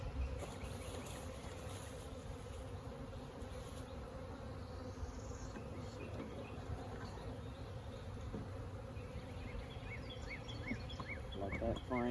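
A swarm of honeybees buzzes steadily and fairly faintly, a constant droning hum with some individual bees passing closer, outdoors as a storm approaches.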